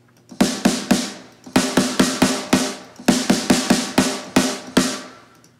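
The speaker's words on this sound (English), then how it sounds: "carbon steel drums, extremely heavy drum, and I tune it right up, and it sounds like this." A tightly tuned heavy carbon steel snare drum struck in quick bursts of crisp, ringing hits, bright and close, with short pauses between groups of strokes.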